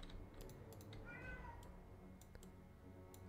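A pet cat meows in a short, rising-and-falling call behind steady background noise, with scattered clicks of keyboard typing before and after, and no voices.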